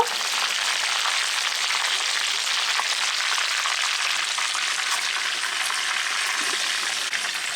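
KFC-style chicken pieces frying in hot oil give a steady, dense, close crackling sizzle that holds at an even level from start to finish.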